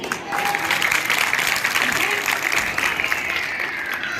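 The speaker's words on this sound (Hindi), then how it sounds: "तालियां रुकनी नहीं चाहिए।" Audience applause at a college ceremony for the Lala Lajpat Rai birth anniversary in Thana Bhawan: a steady, dense wash of clapping that holds for the full stretch, with voices and a faint tone mixed in.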